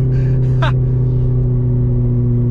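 A C7 Corvette pulling hard in second gear, a loud, close engine drone holding steady tones from the cabin, with a short chirp of higher sound near the start.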